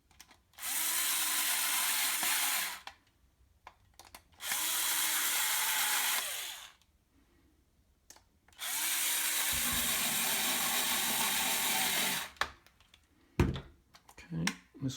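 A power screwdriver driving screws into a plastic toy blaster makes three long, steady whirring runs with short pauses between them, close and fairly quiet, followed by a few sharp plastic clicks and handling sounds.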